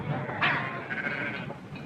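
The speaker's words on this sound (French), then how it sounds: "Allons, faites-moi avancer ces moutons." A flock of sheep being driven along in a Western setting, with a short bleat rising over a rough, busy background of movement.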